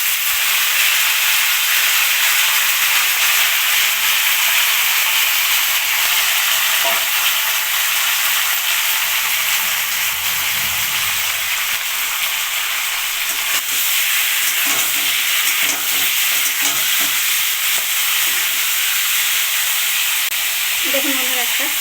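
Chicken pieces fry lightly in a pan for a yogurt chicken dish, a steady broadband sizzle and hiss running throughout with occasional soft stirring scrapes, no talk.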